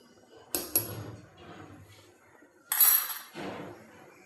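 A metal spoon stirs rice and salt in a cooking pot for veg dum biryani, giving two bursts of clinking and scraping strokes separated by quieter gaps.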